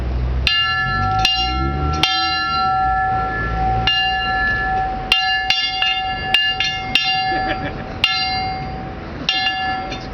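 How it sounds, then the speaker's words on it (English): Great Barrington's bell struck repeatedly at an outdoor ceremony in Ingersoll, its ringing tones sounding in an irregular series of loud strikes with sustained decaying overtones, while a train rumbles and clatters beneath. "So go ahead and ring the bell."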